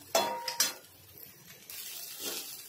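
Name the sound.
okra cooking in a pan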